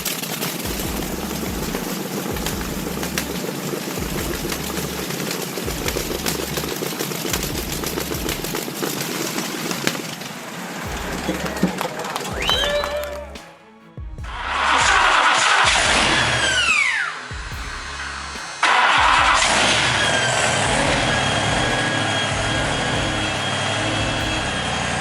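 A B-36 Peacemaker's air-cooled radial aircraft engine cranks over with rhythmic pulses, then catches and settles into a loud, steady roar with surging bursts, heard up close with no voices.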